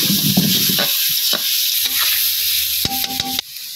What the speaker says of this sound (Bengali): টমেটোটি দিয়ে আলতাছি